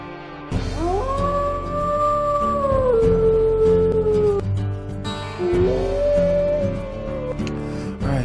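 A wolf howls in WolfQuest 3, a long sustained rising-then-falling tone with a short break before a second howl, loud and close over a low background music bed.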